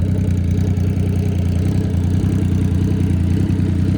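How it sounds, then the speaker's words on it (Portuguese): A Yamaha Tracer 900 motorcycle engine held in first gear, a loud, steady, throaty drone that stays close and constant throughout with no pauses. "Dá uma esticadinha na primeira marcha aqui pra vocês terem a noção."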